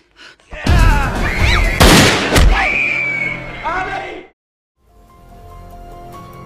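Gunshots ring out in a tense film scene, several loud sharp bangs in quick succession with shouting voices over them, then an abrupt cut to quieter background sound.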